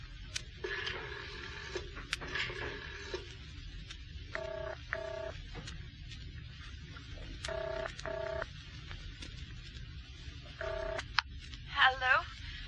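A house phone being dialed in a radio drama murder mystery, several short bursts of push-button tones in groups, fairly close, followed by a brief ring-like chirp at the end.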